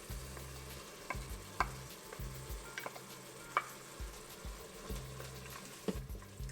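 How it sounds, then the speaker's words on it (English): Green chili sizzles softly in a pan while a spoon scrapes and stirs it in repeated short strokes, close and fairly quiet, with no talking. "We'll let the green chili cook down for a minute."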